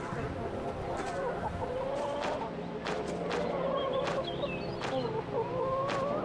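Hens in the horror farming game Dread Fields cluck repeatedly in short, sharp bursts over a steady ambient background, a few calls rising and falling through the scene.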